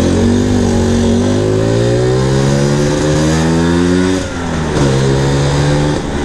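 A Vespa scooter fitted with a buried (tanam) intake revs loudly on a test ride, its engine note rising in steady pitch sweeps, easing briefly near the end, then climbing again, close and continuous with no talk.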